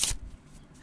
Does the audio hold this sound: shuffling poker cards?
yes